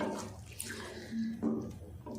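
Water poured into a pot of potato and pea curry on the stove, a faint, soft splash and trickle lasting a couple of seconds with a faint low hum beneath.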